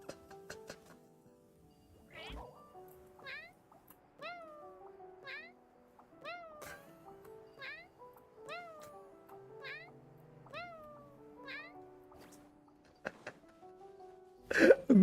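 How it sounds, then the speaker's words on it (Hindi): A cat meows repeatedly in a steady series of about a dozen rising, close and clear calls during Genshin Impact gameplay, with some game sounds and brief voices around them. "ये बिल्ली है।"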